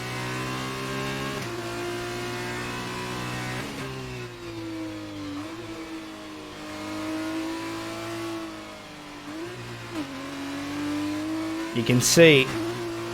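An F2 race car's engine revs and shifts through gears while being driven carefully around Monaco, pitch rising and dropping with a brief squeal near the end, heard under a commentator talking.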